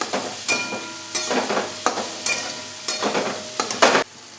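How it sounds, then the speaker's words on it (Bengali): Green chillies fry in a pan with a constant sizzle, broken by repeated scraping and tapping strokes of a spatula stirring them, close up with no talking. "এই যে ভালো করে ফ্রাই করা হয়ে গেছে।"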